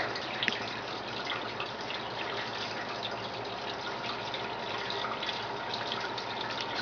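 Water leaking from an Arctic Rain cooler makes a steady, soft, continuous trickle and splash that holds evenly throughout with no voices.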